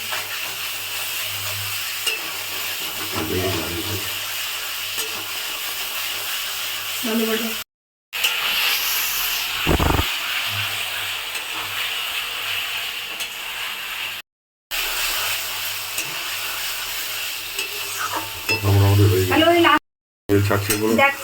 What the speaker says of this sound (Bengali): 15 মিনিটের মতন এইভাবে নাড়তে হবে ফ্রেন্ডস, যেন মশলাটা নিচে না লেগে যায়।